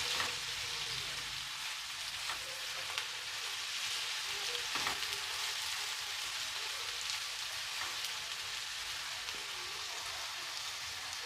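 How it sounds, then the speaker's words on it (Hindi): Potato pieces frying in oil for an aloo anda bhujia make a soft, continuous sizzle like light rain, faint and steady, with occasional small pops. "आलू को हम ऑयल में थोड़ा सा फ्राई करेंगे।"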